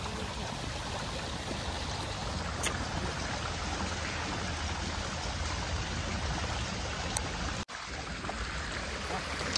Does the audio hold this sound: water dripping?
yes